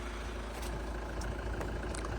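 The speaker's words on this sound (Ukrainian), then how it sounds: "Ось так у нас працює двигунчик." A Hyundai Santa Fe 2.2 CRDI diesel idles with the hood open, giving a steady, even hum with faint ticking and no change in pace throughout.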